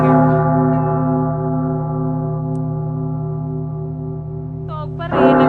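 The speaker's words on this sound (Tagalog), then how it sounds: "Tunog pa rin ang kampana ang dalawa." A large church bell's deep, sustained ring hums and slowly fades, its resonant tones lingering before a faint new sound enters at the end.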